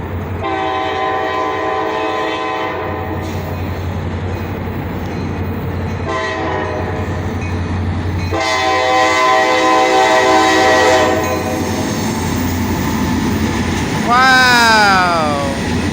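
A CSX freight train rolls through a railroad crossing with the gates down, sounding repeated loud horn blasts over the rumble and clatter of passing cars, with a voice speaking briefly.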